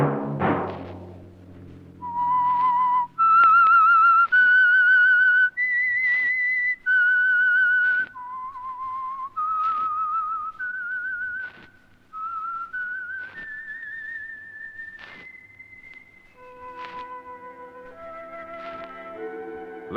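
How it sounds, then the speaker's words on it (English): A lone whistler carries the melodic theme tune of The Whistler radio program, a clear, steady series of sustained pitched notes rising and falling at an unhurried pace, close and loud with no talk over it. "Let that whistle be your signal for the Signal Oil program, The Whistler."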